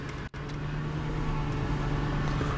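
The engine of a 2003 Lincoln Town Car Cartier limousine idles just after starting, a smooth steady low hum with a faint whine, close and continuous, broken by one short gap near the start.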